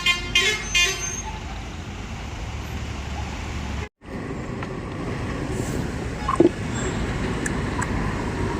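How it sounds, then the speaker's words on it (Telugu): Lorries and buses pass on a busy road at night around one o'clock, giving a steady, fairly loud roadway rumble with a few vehicle horn toots near the start and a brief dropout partway through. "ఒంటి గంట అవుతుందిగా లారీలన్నీ బస్సులన్నీ వెళ్ళిపోతున్నాయి"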